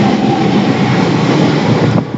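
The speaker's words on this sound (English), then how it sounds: "And there that train goes." A train on the Great Western Main Line passes through Southall station, a loud, steady rolling roar with rail rumble and faint clatter, easing slightly at the very end.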